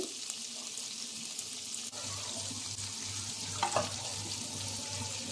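Cashews and almonds fry in melted butter with a steady, soft sizzle and bubbling hiss, a brief stirring clatter near the middle, and no voices.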